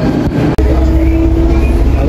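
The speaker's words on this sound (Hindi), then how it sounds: "गाइस देखो मेट्रो आ गई है, अब हम जाते हैं।" Loud, steady rumble of a Delhi metro train arriving at a station close by, with a low droning tone and a brief dropout partway through.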